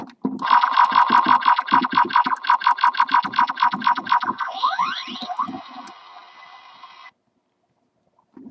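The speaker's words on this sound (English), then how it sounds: "it activates his lights and sounds gimmick." Electronic lights-and-sounds gimmick of a Transformers Animated Ultra Magnus toy, a loud rapid pulsing of buzzy synthetic tones with a fast falling sweep midway, then a steady electronic whine that cuts off abruptly.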